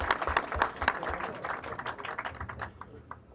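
Studio audience applause at a televised talent show, a crisp crackle of many hands clapping that fades gradually toward the end, with a few stronger claps near the start.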